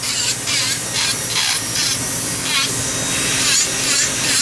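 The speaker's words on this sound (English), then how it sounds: "So first we're going to roughen up the denture." Dense, steady hissing and scrubbing from a light abrasive pass roughening the surface of a milled denture before a soft reline, running continuously with pulsing brighter bursts and no talk.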